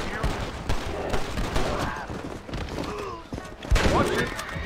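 Gunfire at a bear in the Red Dead Redemption video game, rapid loud shots in bursts across the stretch, mixed with shouting voices.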